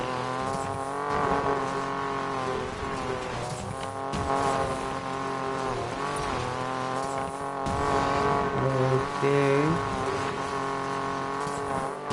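Race cars in an online Need for Speed Payback race, engines droning and revving steadily with shifting pitch as gears change, tires briefly squealing, loud and continuous throughout.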